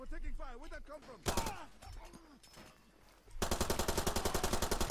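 Enemy machine gun fire in the video game Far Cry 2: long loud rapid bursts of automatic gunfire, with someone talking at the start.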